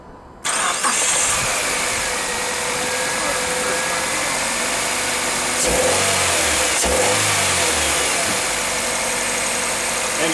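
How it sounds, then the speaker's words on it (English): A Mazda 2 engine, with its hydrogen system removed, cranks and catches, then runs loudly with a couple of revs partway through, close by and without any talk. "And it doesn't sound like a diesel anymore."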